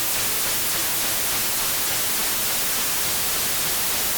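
A synthesized signal from an incorrectly applied FM synthesis formula comes out as a steady, loud, broadband hiss like static, holding unchanged and alone for about four seconds.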